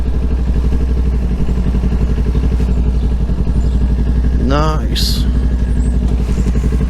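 Motorcycles ride past on a road in Knob Noster, Missouri, a steady engine drone throughout with a brief spoken remark partway through.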